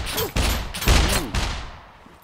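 Gunfire aimed at the player in the survival game SCUM: a few loud, broadband shots at uneven intervals, each with a ringing tail, close and alone without talk.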